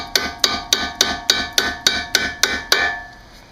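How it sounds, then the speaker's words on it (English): A hammer gently taps out a bolt on a 2002 Audi S4 during a brake and suspension teardown: ten evenly spaced metallic knocks with ringing decay, close and clear, then fading quiet. "leave this bolt in just a tiny bit and nice and gentle tap it out"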